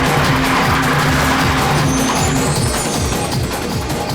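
A car speeding hard with its tires squealing during an action-movie chase, loud and continuous with a high screech over the roaring engine, close and unbroken throughout.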